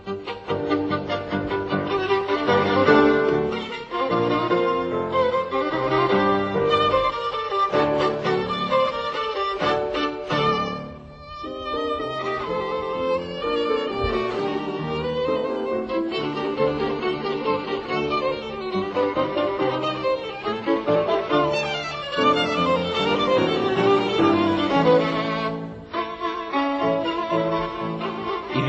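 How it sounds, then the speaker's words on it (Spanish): A recording of Tartini's Devil's Trill Sonata plays continuously, with dense sustained violin lines and ornamented passages over accompaniment, steady and moderately loud throughout with a brief dip in the middle. "Vamos a escuchar cómo suena el Trino del Diablo."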